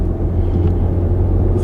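Cabin rumble from a Peugeot 308 1.6 BlueHDi diesel car driving on the road, a loud steady low drone of engine and road noise with no talk.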